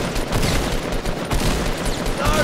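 Rapid bursts of gunfire from the video game Fortnite, loud and continuous with dense overlapping shots across the whole short stretch, no clear talking on top.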